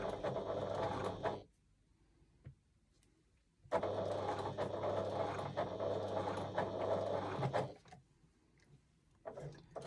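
A hand-cranked sewing machine stitches around a curve in faux leather with a steady, loud mechanical whirr and rattle in two long runs, each broken by a pause with faint clicks, and no talking.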